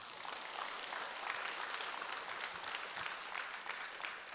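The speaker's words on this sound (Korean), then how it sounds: "박수 한번 쳐주세요" Church congregation applauding a young worship leader during a Friday night service, a steady, even roar of many hands clapping throughout, moderately loud with no talk over it.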